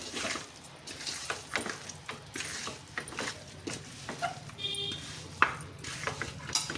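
Chicken pieces are mixed with ground coriander, cumin and other spices for dum biryani, producing faint, continuous clicking and scraping of utensil against bowl in a quiet kitchen.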